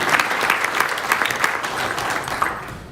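Applause from the audience at an Eagle Scout Court of Honor, a steady, dense wash of clapping filling the room and continuing evenly from start to finish.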